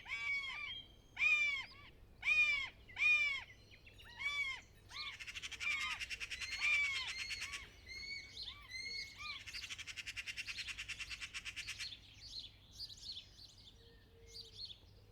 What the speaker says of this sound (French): Cet oiseau aux allures d'aigle, que l'on observe fréquemment sur le bord des routes ou dans les cultures, est en réalité une buse variable.